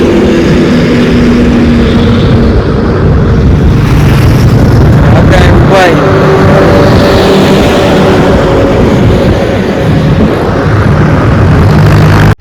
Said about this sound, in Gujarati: આપણું બાઇક